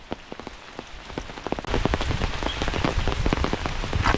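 Steady rain pattering on a hard surface, with scattered louder drips; the downpour thickens and grows louder partway through, continuing without voices.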